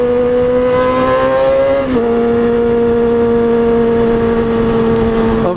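A loud car engine revs hard with a high, screaming F1-like tone, pitch holding steady, dipping briefly and then climbing again, close and dominant with no talk.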